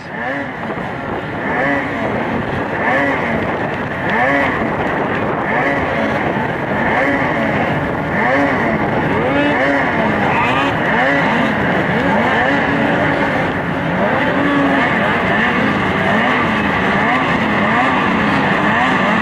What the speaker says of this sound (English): Watching them sleds go through.